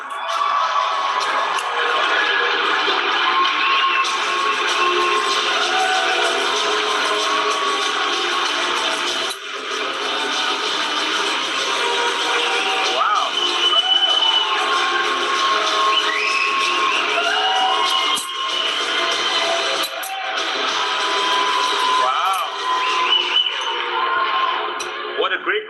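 A large Expo crowd at the MGM Grand in Las Vegas keeps up loud, continuous cheering, clapping and whooping, a dense wall of applause with an announcer's voice over it.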